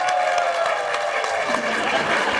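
Studio audience on a Pakistani TV talk show claps steadily to welcome a guest, a short dense burst of applause throughout.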